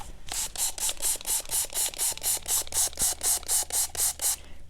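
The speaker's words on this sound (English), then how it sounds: "I want to put some water in here because it's very thick. I'll just use my spray." Hand spray bottle misting water onto thick craft paint, about fifteen quick regular spritzes in a steady rhythm, each a short hiss with a faint trigger click, close and fairly loud.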